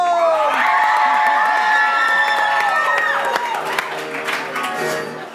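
An audience at a live main-stage show applauds and cheers loudly, with whoops and raised voices over dense clapping that holds steady, then thins toward the end.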